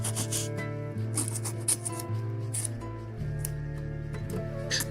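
A small file rasps back and forth against a plastic part of a 1/144 Bandai Macross model kit, removing flashing in a quick series of scratchy strokes. A faint electrical hum sits underneath, with no speech.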